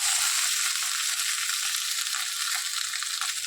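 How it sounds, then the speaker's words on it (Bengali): Okra and potato curry fries in a pan at home, giving off a loud, dense, unbroken sizzling hiss at close range with no voices. "ভালো করে ভেজে নিলাম"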